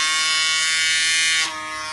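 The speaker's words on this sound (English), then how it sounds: "And that little guy is spinning in there, and when you get the suction, it sounds like that." A PMD Personal Microderm handheld exfoliating device spins with a high steady whine and buzz, its tone dropping and softening near the end as suction engages.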